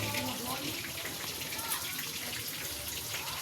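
A kitchen tap runs steadily into a sink while vegetables are washed under it, a continuous splashing hiss with faint voices in the background.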